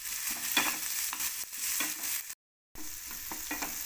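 Finely chopped onion sizzles and fries in a pan while a utensil stirs it in repeated scraping strokes, a steady close crackle broken by a brief full silence near the end.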